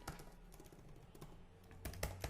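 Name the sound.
typing on a computer keyboard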